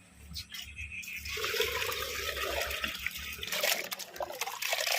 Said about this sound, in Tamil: அவிச்சு உதறின நத்தைக்கு மஞ்சப்பொடியை போட்டு அந்த கவுச்சியோட போகிறதுக்கு மறுபடியும் தண்ணி ஊற்றி அலசுறோம்